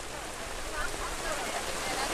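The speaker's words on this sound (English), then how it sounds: "It might be a good time to call this game on account of rain." Rain falls steadily on a tarp over a football field, giving a continuous dense hiss that stays even and fills the whole clip with no distinct drops standing out.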